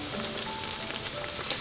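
Zucchini fritters sizzle in hot oil during their second, quicker fry, a steady crackling hiss with scattered pops and no voices.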